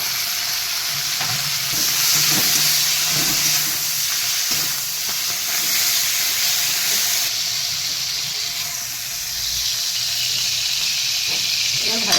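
Mushroom rice is stir-fried with coriander leaves over a high flame, producing a loud, steady, hissing sizzle that runs unbroken and close up, with faint scraping underneath.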